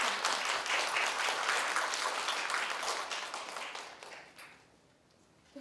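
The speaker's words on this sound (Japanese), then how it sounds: "もう一度拍手をお願いいたします。" An audience at a Chiba cat-welfare study meeting claps in sustained, dense applause that holds steady for several seconds, then thins and fades out near the end.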